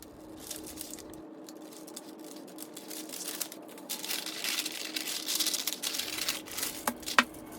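Scissors cut through a paper bodice pattern, making soft close crinkling and snipping sounds that grow busier toward the end, with one sharper snip near the close.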